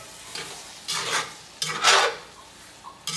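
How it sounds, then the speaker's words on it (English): Jambalaya being stirred in a pot, with several loud, close scraping strokes of a spoon along the pot bottom over a low background sizzle. "Scrape that bottom up."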